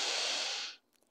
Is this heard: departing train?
no